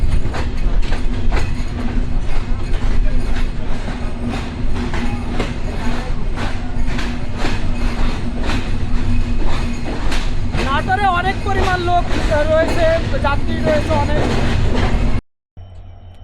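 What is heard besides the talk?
train locomotive at Natore railway station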